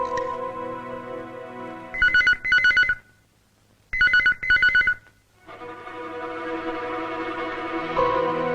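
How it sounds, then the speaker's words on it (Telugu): An office telephone rings in two double-trill bursts separated by a short pause, with soft tonal background sound before and after. "ఆఫీస్ లో ఫోన్ రింగ్ అవుతుంది, ఎవరు ఎత్తడం లేదు."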